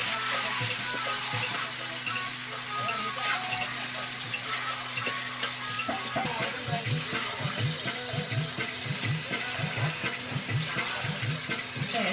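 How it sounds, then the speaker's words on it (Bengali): Chicken for biryani frying in a pan, a steady close hiss of hot oil with a run of rhythmic scraping or bubbling pulses in the latter half, no talk over it. "তো এবার মাংসটা আমি দিয়ে দেবো। এটাকে আমি ভালো করে কষিয়ে নেবো।"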